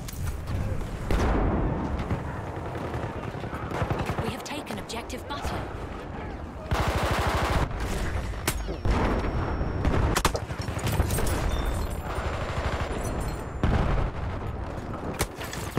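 Bursts of gunfire crack and boom through a shooter video game, with repeated loud shots and heavy blasts scattered across the stretch while someone talks over them.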